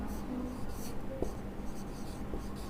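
Chalk or marker scratches across a board during a chemistry lecture, faint short strokes with soft taps, quiet and close, with a low room hum beneath.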